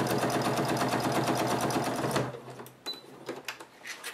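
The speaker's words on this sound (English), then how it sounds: "I'm edge stitching to get the Velcro sewn right into place" A sewing machine edge stitches Velcro onto a fabric clutch bag, running in a fast steady rattle for about two seconds before stopping, followed by a few lighter clicks and handling taps.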